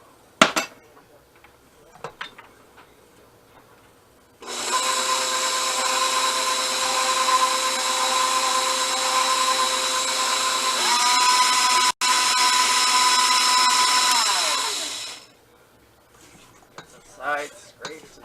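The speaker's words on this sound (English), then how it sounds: "Then we're going to add 2 eggs. And we'll really let that beat good." An electric mixer beats spice cookie dough with eggs in a home kitchen, heard as a loud, steady whirring hum that starts abruptly, shifts pitch partway through and then cuts off, with clinking of utensils before and after.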